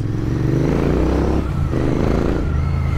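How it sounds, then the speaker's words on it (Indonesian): A Royal Enfield Interceptor 650 with a shortened exhaust rumbles close by with a deep, throaty engine note, holding a steady rev with a brief dip midway. "hal pertama yang gua apresiasi dari motor ini adalah knalpotnya"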